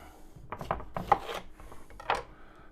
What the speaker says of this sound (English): let's get to chopping some vegetables